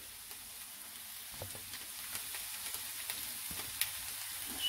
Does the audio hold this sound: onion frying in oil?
yes